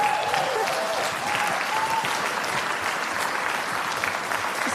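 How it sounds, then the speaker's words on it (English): Audience applause at an MLK Day of Service and Unity parade, a dense, steady crackle of many clapping hands sustained for several seconds outdoors, with faint voices mixed in. "How about one more round of applause?"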